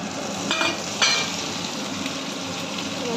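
Lentil dumplings (bori) and shrimp fry in a pan, making a continuous close sizzle, with a couple of brief stirring scrapes near the start.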